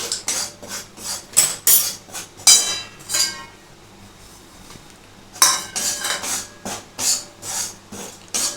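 A utensil repeatedly scrapes and clanks against a pan while a grated coconut mixture for narkel barfi is stirred and fried, in bursts of sharp metallic strokes with a brief quiet pause in the middle.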